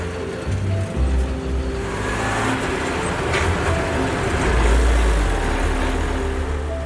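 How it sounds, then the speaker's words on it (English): A truck bumps along rough roads in Madagascar, its engine rumbling low and steady throughout with heavy jolts and rattling, swelling louder near the end, no talk. "there's still 35 miles of rough roads left that we'll take in this awesome rainbow truck"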